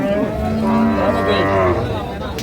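A cow at a cattle market gives one long, close, loud moo that rises and falls for about two seconds, with no talking over it.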